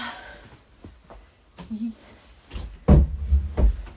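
An indoor door is pushed shut, giving a few dull thumps and clunks near the end, with soft low voice sounds beforehand.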